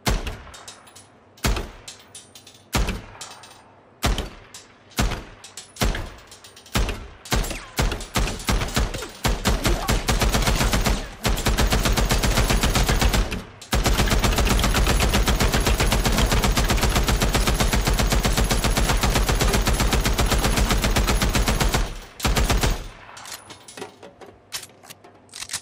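Special weapons fire in the video game Days Gone as a horde is mowed down: scattered sharp single shots give way to long sustained bursts of rapid automatic fire, loud and close, with brief pauses.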